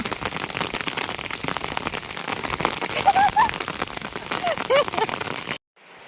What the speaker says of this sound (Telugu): ఈరోజు ఫుల్ వర్షం వస్తుంది బయట